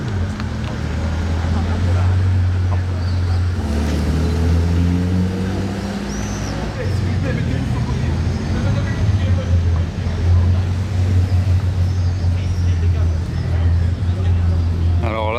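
Convoy of hypercars, Bugatti, Pagani, Koenigsegg and McLaren Senna among them, rolling past on a Monaco street, a steady deep engine rumble with rising revs and passing whooshes, loud and close, with people talking over it.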